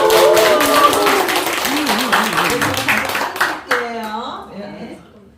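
An audience at a small literary talk concert claps in a brisk, near round under a voice speaking over it; the clapping fades out after a few seconds and the voice continues alone.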